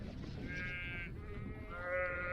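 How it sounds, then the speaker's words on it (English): Sheep bleat at feeding time out on a fell hike, two drawn-out wavering calls heard close by over a low rumble of wind. "literally every sheep from all over. It's feeding time."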